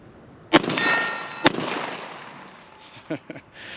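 A Springfield Prodigy 1911 pistol fires two sharp, loud shots about a second apart, each leaving a ringing decay, followed by softer clicks and handling noise near the end.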